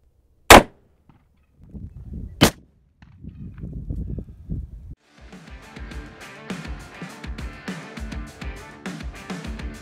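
.357 revolver fired outdoors at a body armor test, two sharp, loud cracks about two seconds apart, followed by footsteps and handling noises.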